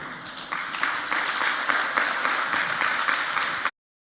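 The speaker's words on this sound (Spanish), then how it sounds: "Vamos a invitar con gran aplausos." Audience applause fills a church leaders' congress session in Chile, a dense, steady wash of clapping that holds at even strength for several seconds before cutting off abruptly.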